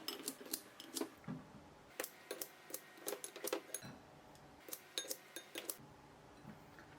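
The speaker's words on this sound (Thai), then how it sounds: "ต่อไปผมจะตัดสาหร่ายวากาเมะโดยกรรไกรครับ" Kitchen scissors snip through long strands of rehydrated wakame seaweed for a Korean stir-fry, giving a string of crisp, irregular clicks and snips with light clinks between them, close and fairly quiet.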